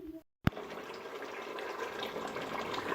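Water pours from a tap into a cooking pot of spiced meat for aloo gosht, a steady rushing splash that starts abruptly after a short silence and a clank and continues close by.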